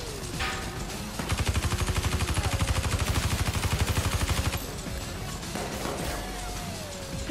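Automatic gunfire in the video game Watch Dogs 2: a loud, rapid, evenly spaced burst lasting about three seconds, then fainter scattered shots and game ambience.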